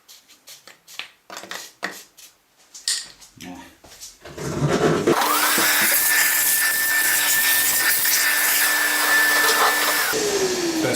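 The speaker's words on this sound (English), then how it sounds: "Best invention ever, the vacuum cleaner." After a few knocks and clatters, a vacuum cleaner switches on nearby and runs with a steady high-pitched whine, close and loud.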